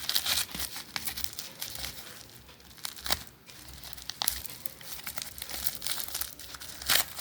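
Paper wrapping is torn and crinkled off a boxed 40 mm padlock, giving a run of close, loud crumpling and ripping bursts with brief pauses between them and no talking.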